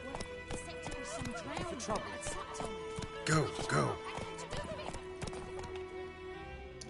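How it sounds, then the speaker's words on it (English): Horse hooves galloping in the video game The Witcher 3: Wild Hunt, a rapid, steady clip-clop close up with a neigh partway through, under brief spoken words and game sounds. "Okay, turn this horse around."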